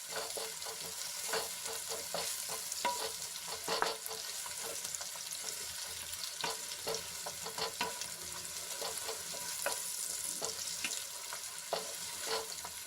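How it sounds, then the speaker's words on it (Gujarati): Onions fry with ginger, garlic and chilli paste in a pan: a continuous low sizzle broken by repeated spatula scrapes and taps, close and moderately quiet, no voices. "ડુંગળીને આછા ગુલાબી રંગની થાય ત્યાં સુધી આપણે એને સાંતળી લેવાની છે"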